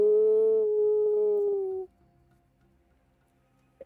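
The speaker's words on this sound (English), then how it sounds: "the distinct sound of wolves howling" A single long, steady wolf howl holds a clear tone for nearly two seconds before cutting off, leaving quiet stillness with a faint click at the end.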